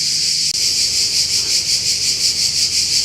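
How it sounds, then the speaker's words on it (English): Crickets at an abandoned prison chirp loudly and continuously in a dense, pulsing high-pitched trill that fills the scene, with no other sounds. "That's how loud these crickets are."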